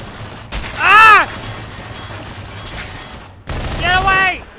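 Gunfire in the Half-Life 2 mod Entropy Zero comes as two short, loud bursts of rapid shots, separated by a quieter stretch, with a strained, voice-like tone over the shots.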